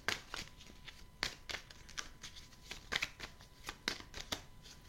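Tarot cards are shuffled by hand in a quiet room, a series of quick papery riffles and sharp flicks coming in irregular bursts, close and fairly soft.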